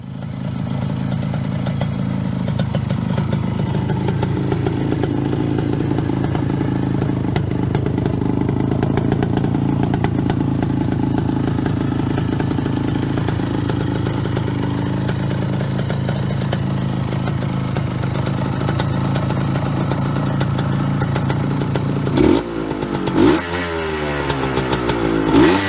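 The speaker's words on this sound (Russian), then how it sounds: "Трехсотшестидесятитрёхкубовый одноцилиндровый двухтактный двигатель Frontera" A Bultaco Frontera 370 enduro's 363cc single-cylinder two-stroke engine runs steadily for a long stretch with a loud, buzzing drone, then revs up sharply with some clatter near the end.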